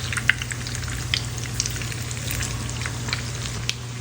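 Tortang tobias frying in a pan makes a strong, continuous crackling sizzle with scattered pops over a steady low hum from a stove or fan.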